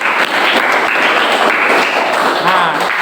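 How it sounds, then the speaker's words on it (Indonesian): A class applauds with dense, steady clapping from many hands that fills the room for a few seconds, mixed with scattered voices. "Ya, tepuk tangan."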